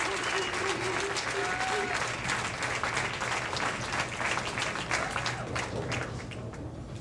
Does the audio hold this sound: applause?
yes